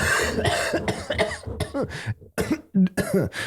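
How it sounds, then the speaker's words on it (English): A person coughs repeatedly in several harsh, throaty bursts of uneven length and spacing, close and fairly loud, with some throat clearing mixed in and brief gaps of silence between fits. "That was like Christopher Walken coughing."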